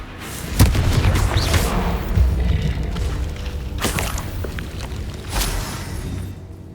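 Spell blasts and explosions in the Hogwarts Legacy video game: a series of loud, booming impacts with crackling debris and rumbling tails, several heavy hits in quick succession and more spread out after, with no talking.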